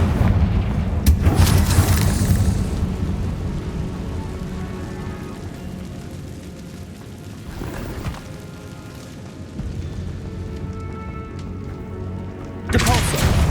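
Confringo blasting spell explosions in the Hogwarts Legacy video game, a few loud booming bursts spread out, near and heavy, with rumbling decays over a low continuous game background.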